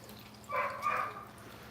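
A dog barks in the background during a live cooking session of key lime pie and spicy ribs, two short bursts close together in the middle of the clip, moderately loud over a quiet room hum.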